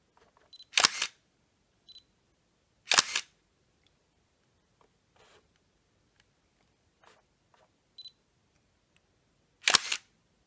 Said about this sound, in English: So you can see the shutter. Shutter goes up and down again.